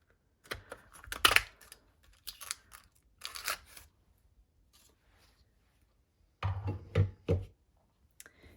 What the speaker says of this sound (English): for the wings, I just cut them out of vellum